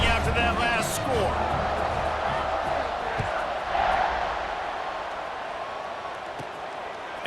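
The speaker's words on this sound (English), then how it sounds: "this crowd is buzzing after that last score" A college football video game stadium crowd buzzes in a broad, steady roar that fills the whole stretch and eases slightly toward the end.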